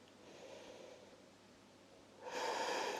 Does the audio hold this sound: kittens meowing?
no